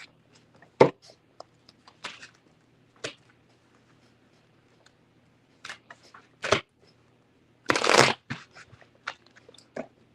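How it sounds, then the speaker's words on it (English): Tarot cards shuffled quickly by hand in a few separate crisp bursts, with one longer dense riffle near the end, close and fairly quiet with mostly silence between. "All right, so quick shuffles."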